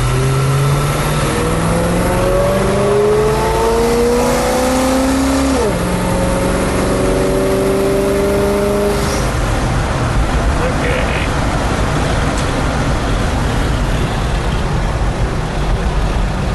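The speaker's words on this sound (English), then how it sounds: "I just downshifted the second" A 1979 International Scout II on the road, its engine note rising in steady pitch sweeps and then dropping sharply as it downshifts into second gear, then pulling on under continuous broadband road and wind noise, close and loud throughout.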